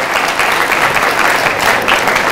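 An audience at a religious lecture gives a young woman a burst of loud, sustained applause, many hands clapping densely and evenly at close range without pause.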